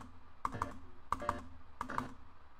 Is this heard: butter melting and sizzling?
no